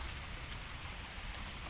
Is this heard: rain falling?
yes